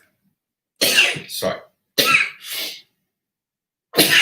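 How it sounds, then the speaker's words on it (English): A person lets out three loud, abrupt sneeze-like bursts, each in two parts, separated by silence, and a brief spoken word follows. "Pardon, I'm gonna sneeze."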